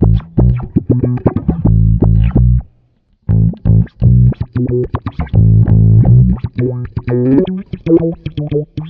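Bass guitar run through a Soundblox bass envelope filter pedal with a negative sweep, playing loud, funky plucked note runs broken by a short pause midway; no one speaks.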